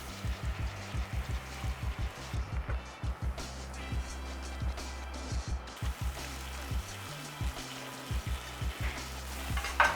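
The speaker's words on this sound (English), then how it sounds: "You hear that sizzle? That's what we want." A beef patty and bacon sizzle and crackle steadily on a hot food truck griddle, with repeated rhythmic scraping and tapping of a spatula over the frying hiss.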